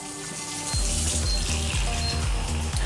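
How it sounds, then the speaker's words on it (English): Water poured into a pot of rice and kidney beans for Jamaican cooking: a steady splashing pour with rhythmic low glugging pulses, loud and close, no talk. "add some water to that"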